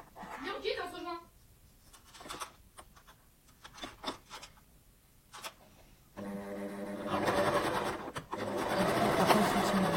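Sewing machine stitching a faux leather pouch, scattered handling clicks followed by bursts of rapid stitching that grow louder toward the end.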